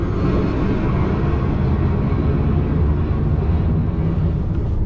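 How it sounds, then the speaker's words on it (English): An airplane passing low overhead near the end of a runway, a loud, steady, broad jet roar filling the whole stretch without letup. "I've got an airplane right above me head."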